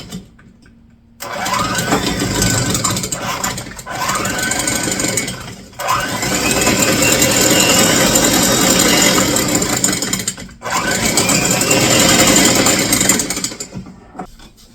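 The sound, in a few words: electric mixer creaming butter and sugar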